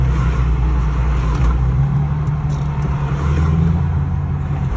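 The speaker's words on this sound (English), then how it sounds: "this is a complete different car that will pull in" A car engine rumbles steadily nearby, a low continuous drone with slight revving as the vehicle rolls in and slows.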